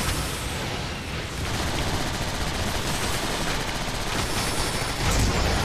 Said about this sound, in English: Okay, this thing's destroying me with lasers.